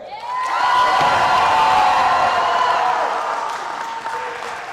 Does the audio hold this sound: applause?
yes